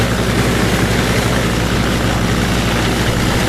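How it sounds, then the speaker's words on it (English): Ford 917 flail chopper grinding crop stalks on a field, a steady, dense, loud mechanical roar with a low droning engine underneath, unbroken throughout. "917 Ford flail chopper."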